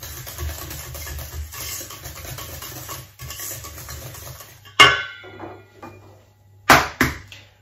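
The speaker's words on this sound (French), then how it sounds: "Je casse 2 œufs entiers, un par un, on mélange." Two whole eggs are cracked one at a time on a bowl rim, each a sharp close knock followed by a short gap, after a stretch of soft scraping and rustling.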